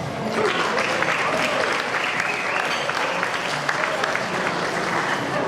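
Audience applause for the musician at a Hall of Fame banquet dinner, a dense, steady roomful of clapping that stays loud and even throughout.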